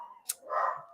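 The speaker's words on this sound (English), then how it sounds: "we've got someone delivering a parcel at the moment, so my dogs are going a bit crazy at them" Dogs at home bark at a parcel being delivered, giving a brief, fairly faint bark or yip in the background.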